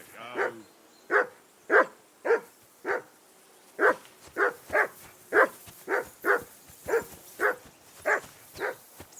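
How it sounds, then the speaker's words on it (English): Dog barking in the medieval game Kingdom Come: Deliverance II, a steady run of about sixteen evenly spaced barks at moderate distance, alone against quiet ambience. "I assume you can hear that damn dog of yours barking."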